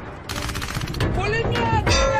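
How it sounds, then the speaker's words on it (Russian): Machine gun fire in a war movie scene, rapid bursts of shots with ringing echoes over a couple of seconds, loud and close, mixed with background film sound. "Пулемет!"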